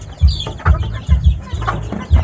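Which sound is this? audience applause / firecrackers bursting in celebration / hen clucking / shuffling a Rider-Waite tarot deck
hen clucking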